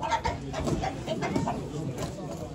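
Egg-laying hens clucking at a live poultry auction, a close cluster of short, busy clucks and murmurs with a voice in the background.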